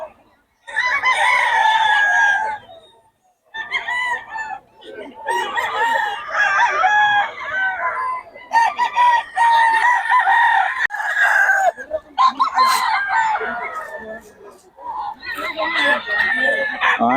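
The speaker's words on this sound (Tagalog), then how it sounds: "Mga solid mga manok nito, Boss Jun." Several roosters crow in long, overlapping calls at a chicken farm in Bocaue, one after another, loud and close, with brief pauses between bursts.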